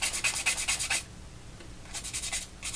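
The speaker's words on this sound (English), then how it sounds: "take a piece of this vine charcoal because I can sometimes get the lips to be, and I'll just like sharpen it a little bit, rub this till it makes a nice wedge" A stick of vine charcoal is rubbed on sandpaper to sharpen it, giving a run of quick rhythmic scraping strokes, a pause, then a second burst of rasping strokes, close and clear.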